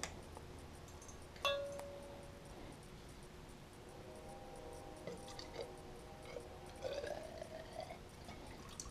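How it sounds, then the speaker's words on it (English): Fuel from a BMW 1200 series motorcycle drips through its in-tank fuel filter, making faint, scattered liquid drips and trickles over a quiet background hiss, with no speech. "you can see that the fluid is coming out through the filter"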